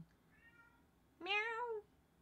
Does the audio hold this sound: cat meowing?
yes